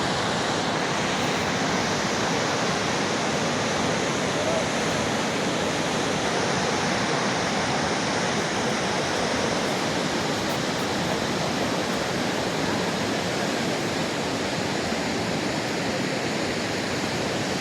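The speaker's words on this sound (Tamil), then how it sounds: "இதுதான் சரஸ்வதி நதி ஓடிக்கிட்டு இருக்குது." The fast-flowing Saraswati river rushes below a Himalayan pilgrimage route near Vyasa's cave, making a dense, unbroken roar of churning water that holds at a steady, loud level with no voices.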